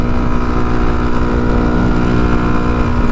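A Honda Monkey motorcycle cruising at about 60 on a steady, unpinned throttle: a constant close engine drone with a strong hum and wind rush, no talk.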